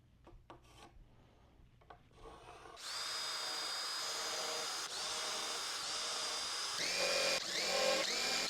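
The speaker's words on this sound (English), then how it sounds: "I am going to put in the rest of the screws for this side" Power drill driving screws into a wooden cross cut sled, a few handling knocks first, then a sustained close whirring drill that slows and strains near the end as screws seat.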